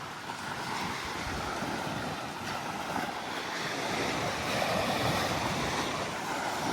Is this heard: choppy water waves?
yes